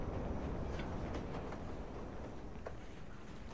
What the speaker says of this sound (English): Eastbound train arriving shortly.